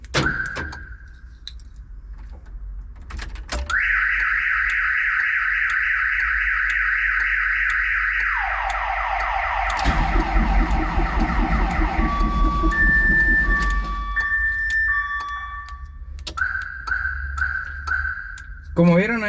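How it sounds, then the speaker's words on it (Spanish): A VW Saveiro G1 pickup's alarm sounds loudly and continuously, cycling through several siren tones: a steady high wail, then a falling sweep, then chirping warbles, with a brief chirp at the start. "activamos la alarma, se va a disparar cuando la ponga en contacto"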